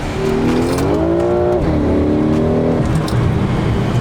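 A BMW F10 M5 roars hard through a roll race against a single-turbo BMW 335i, its engine note climbing through a gear, dipping at a shift, then pulling again, loud and steady in the cabin.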